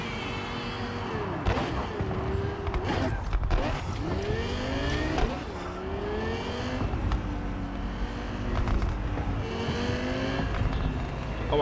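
Racing car engine in Cyberpunk 2077 revving and shifting through gears as tires grip and briefly squeal, loud and continuous with rising and falling pitch sweeps throughout.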